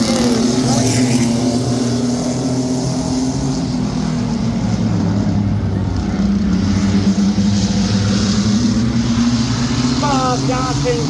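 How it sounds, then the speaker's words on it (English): Mini trucks racing a feature at Midvale Speedway, their engines droning loudly and continuously close by, the pitch rising and falling as they circle, while an announcer talks over the noise. "19 lap O'Reilly Auto Parts mini truck feature"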